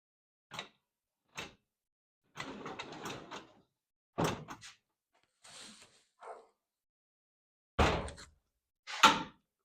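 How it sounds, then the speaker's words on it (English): Drawers of a US General 72-inch tool box being pushed shut one after another, a series of short metallic slides and clunks spaced apart with quiet gaps between, fairly close and isolated. "you just push the drawers in."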